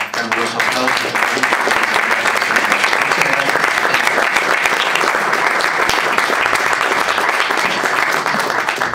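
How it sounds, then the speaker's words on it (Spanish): A hall audience gives sustained, loud applause at a tribute event at Mexico's Fonoteca Nacional, steady dense clapping for nine seconds. "es Estela Barona, para quien yo pido un caluroso aplauso"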